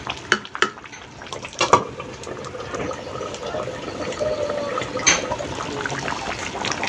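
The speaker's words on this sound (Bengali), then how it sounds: "নেড়ে চেড়ে এখন মিশিয়ে দিব" Beef curry with potatoes being stirred in a pot over a wood-fired village stove, with wet scraping and clinking of the spoon against the pot that has a few sharp knocks early on, then a steady close sizzle and simmer throughout.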